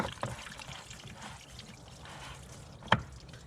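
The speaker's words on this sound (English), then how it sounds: "And then there's a lot of coolant coming out." A steady trickle of coolant pouring and dribbling out of a Mk4 Volkswagen Golf GTI 1.8T engine, continuous and fairly soft, with one sharp clink near the end.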